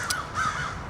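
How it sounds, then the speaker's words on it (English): Crows cawing at sunrise outdoors, a couple of short harsh caws at moderate distance in quick succession. "there's a whole bunch of crows cawing and flying around"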